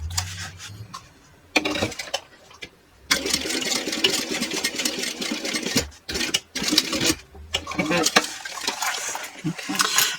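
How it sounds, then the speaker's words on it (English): A sewing machine stitches along a marked seam line on a handmade bag, running in several short whirring bursts broken by brief pauses, with fabric rustling and handling noise in between. "now what we're going to do is we're going to sew right on this line here"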